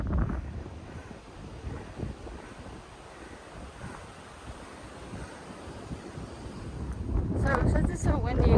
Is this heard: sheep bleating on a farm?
no